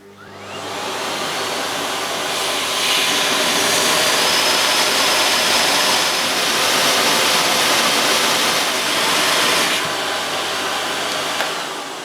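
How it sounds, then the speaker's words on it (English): An Electrolux vacuum cleaner runs loud and close with its electrostatic duster attachment spinning, a steady roaring whoosh that rises after a quick start and holds evenly throughout. "I need to switch my vacuum on again and move this little lever in order for this little device to start spinning"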